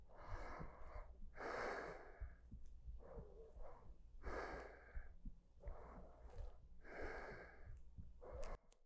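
Slow, deep breaths during a yin yoga session, with long airy exhales repeating in a steady rhythm up close, each breath swelling and fading with no talking.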